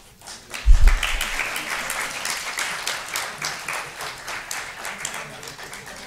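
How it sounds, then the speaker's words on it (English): Audience applause at a forum on Irving Penn, art, fashion and photography, starting with a low thump and then building into sustained clapping from many people that stays strong before gradually easing. "Please give him a big round of applause"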